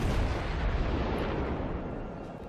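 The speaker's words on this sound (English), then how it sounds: "So I switch to high explosive. Send a broadside its way, and I get a couple of hits." Naval guns firing a high-explosive broadside in World of Warships, a dense rumbling blast that fills the moment loudly and slowly tapers off, with no talk over it.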